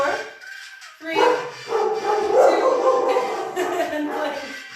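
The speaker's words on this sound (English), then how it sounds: "The dogs are cheering you on." Several dogs bark and yip excitedly in overlapping, continuous bursts close by, with a whimpering tone mixed into the chorus.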